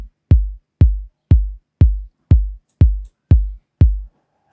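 Programmed Afro house kick drum in FL Studio, eight evenly spaced punchy thumps with a deep low body and quick decay, loud and alone with silence between hits.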